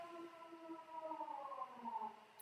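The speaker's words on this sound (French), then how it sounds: "alors la sirène qui se lance" A civil defense siren sounds outdoors in Denmark, a rising wail holding steady, moderately distant and continuous throughout, with no talk over it.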